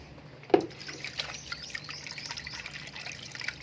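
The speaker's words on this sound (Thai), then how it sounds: "เสร็จแล้วก็ล้างน้ำนะครับ" Water trickles and drips while freshly shucked oysters are rinsed to wash mud and sand from the meat, a soft steady splashing with one sharper splash near the start and no talking.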